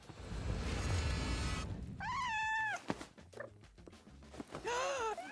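A Minecraft cat meows twice, long drawn-out wavering calls separated by soft thumps, heard close and clear after a brief burst of noise, with no talking.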